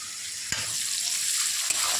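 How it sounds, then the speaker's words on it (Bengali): Chopped capsicum sizzling in a pan for fried rice, a steady bright hiss with a couple of short scraping stirs from a spatula, close and fairly loud, no talk. "এই যে ক্যাপসিকামটা দিয়ে দিলাম, নাড়াচাড়া করছি"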